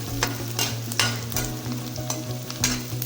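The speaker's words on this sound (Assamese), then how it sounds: "পিঁয়াজখিনি অলপমান ভাজি ল'ম।" Onions sizzle and crackle in hot oil for chilli chicken, with a steady frying hiss and repeated scraping strokes of a spatula stirring the pan up close.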